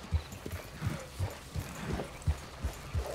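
A horse gallops in Red Dead Redemption II, its hooves striking in a steady, rhythmic clip-clop, close and clear throughout.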